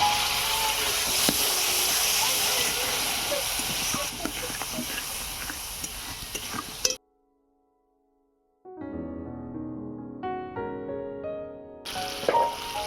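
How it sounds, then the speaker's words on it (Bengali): Masala of cumin, coriander and chili powder frying in a pan with a splash of water for a village-style raw tomato jhal: a loud, steady hiss and sizzle for about seven seconds that cuts off abruptly, followed by music. "ধনে গুঁড়ো, অল্প একটু মরিচ গুঁড়ো, অল্প একটু জল দিয়ে মশলাটাকে কষিয়ে নেব।"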